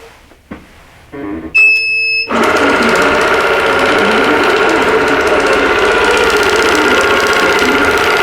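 An embroidery sewing machine starts up and runs steadily, stitching a poinsettia tree skirt. A few clicks and a short beep come first, then a loud, continuous mechanical whir with a rapid stitching rhythm.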